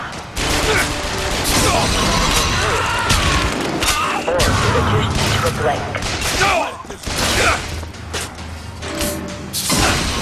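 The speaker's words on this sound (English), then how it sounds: "So let's shoot people." Rapid gunfire bursts and heavy impacts from combat in the video game BioShock Infinite on PS3, loud and continuous across the clip with a spoken line briefly over the shooting.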